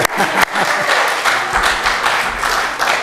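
A lecture audience at a summer journalism school breaks into applause, dense steady clapping from many hands close by that carries on evenly for a few seconds.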